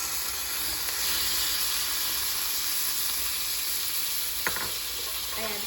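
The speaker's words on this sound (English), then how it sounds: "I'm adding some oil to the pan, just a little bit. Once it heats up, I'm gonna add in my shrimp." Shrimp fry in a little hot oil in a pan, a steady close sizzle and hiss throughout with faint clinks toward the end.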